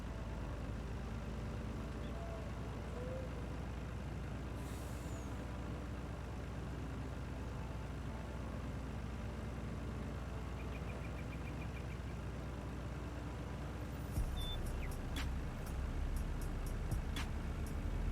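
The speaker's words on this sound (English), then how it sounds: "I hop in the truck" A farm truck idles with a low steady rumble at a moderate distance, then near the end a few clicks and rattles break in as it shifts and starts to move off.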